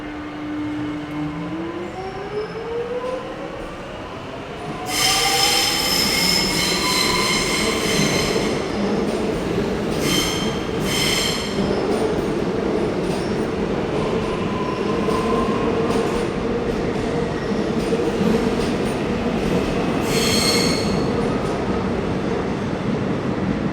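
A Melbourne X'Trapolis electric train's traction motors whine with rising, sweeping tones as it accelerates, joined by steady rumbling wheel noise and bursts of bright high-pitched hiss.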